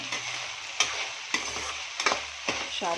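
Okra fries with tomato in a pan and is stirred, each scrape of the spoon landing as a sharp clack every half second or so over a quiet steady sizzle.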